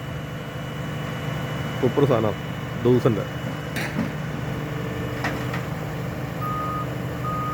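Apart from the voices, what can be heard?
forklift engine and reversing beeps while offloading pipes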